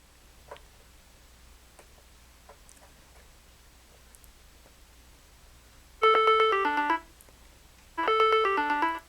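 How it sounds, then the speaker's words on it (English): A silenced phone rings after the button on a TrackR Bravo tracker is pressed: two loud, bright melodic ringtone bursts about a second long each, following several seconds of faint quiet ticks and clicks. "You can ring your device."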